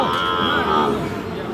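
A cow at a livestock market selling Sahiwal bulls and calves gives a long, loud, close moo that fills the moment, with faint crowd murmur behind it.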